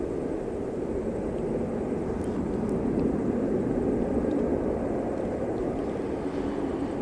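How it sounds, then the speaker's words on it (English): A Jetstar aircraft pushing back on the apron gives off a steady, moderate jet engine hum and whine that stays even and continuous with no voices. "Looks like we have a Jetstar pushing back over here"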